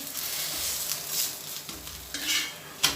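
Maize-flour roti cooking in ghee on a pan, with a soft steady sizzle broken by a few light scraping and clinking touches of a utensil, close by with no talking.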